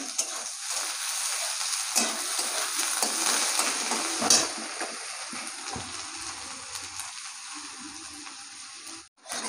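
Panch phoron whole spices sizzle and crackle steadily in hot oil for a Bengali egg and masoor dal, a continuous close frying hiss with occasional small pops and a brief utensil clatter near the end.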